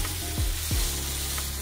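Sliced zucchini fries in a pan together with leeks, a short burst of close, steady sizzling with a couple of soft stirring knocks and a low background hum.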